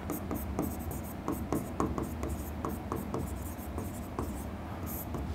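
Someone writes the words unicellular and multicellular on a board, making a quiet series of short, rhythmic scratchy strokes with small pauses between letters, heard close under low room noise.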